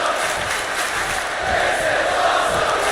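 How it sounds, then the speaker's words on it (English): A wrestling arena crowd in WWE 2K25 roars and cheers in a dense, sustained wall of voices, loud and unbroken throughout. "Roxanne Perez rallying the crowd behind her"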